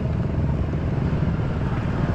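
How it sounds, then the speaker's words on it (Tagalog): Many motorcycles rumble past on the road near a motor bazaar, a dense, continuous low engine drone at close range with no voices. "Ang dami motor"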